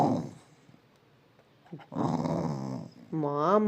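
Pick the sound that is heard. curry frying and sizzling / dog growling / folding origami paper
dog growling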